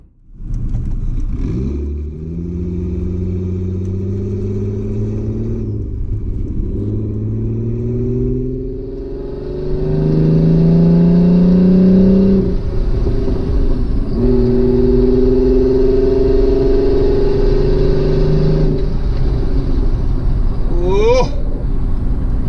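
A Mercedes M104 turbocharged engine in a car revs and idles close by, a steady deep rumble with rising harmonic sweeps as the throttle opens, growing louder partway through and holding a strong drone to the end.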